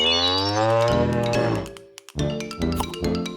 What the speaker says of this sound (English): This place belongs to a cow.